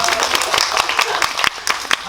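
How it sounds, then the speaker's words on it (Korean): Audience applause in a cinema auditorium after a closing Q&A film screening at a film festival, dense clapping with some sharp individual claps, moderately loud and steady throughout, with faint background voices. "박수 부탁드립니다"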